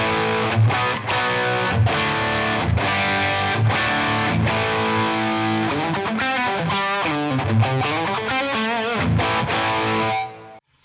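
Electric guitar played through a Two Notes Torpedo distortion preset, a loud, saturated run of palm-muted chugs and sustained chords followed by a melodic lead phrase that cuts off abruptly at the end.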